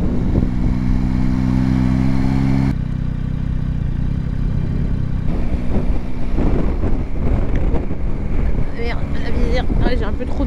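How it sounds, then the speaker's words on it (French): Steady roaring wind buffets the microphone on a Yamaha Tracer 9 GT motorcycle ride in Brittany, with the engine droning underneath and a voice talking over the rush toward the end. "Trop de vent dans la tronche là."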